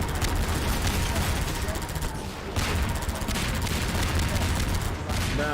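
Dense, continuous gunfire and explosive bursts roar through a Far Cry 6 battle around a tank, loud and sustained, with a short dip before the barrage resumes; a voice speaks briefly over the din.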